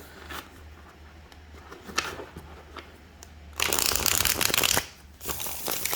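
Soft tarot card handling and faint shuffling at first, then a loud riffling burst of cards being shuffled, followed by another shorter shuffle.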